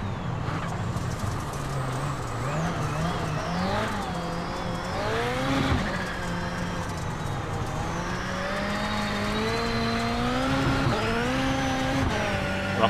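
A Ford Fiesta RS WRC rallycross car slides through corners at Phoenix International Raceway in the iRacing video game, its engine revving up and down steadily up close while tires squeal during the slide.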